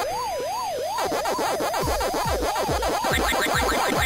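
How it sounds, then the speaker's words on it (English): The Pac-Man siren from a Tandy Color Computer 3 port wails in rapid, repeating rising-and-falling electronic sweeps, quickening partway through over game blips, loud and close with no talking. "And the siren's picking up."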